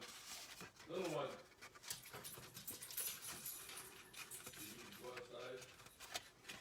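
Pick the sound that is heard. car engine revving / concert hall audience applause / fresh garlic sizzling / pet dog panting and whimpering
pet dog panting and whimpering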